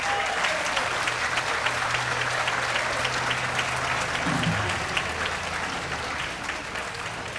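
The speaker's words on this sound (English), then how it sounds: "A round of applause for all of them." Steady, dense applause from a banquet audience at a polo hall of fame induction ceremony, honoring the inductees; sustained and even throughout without a break, with a low hum underneath.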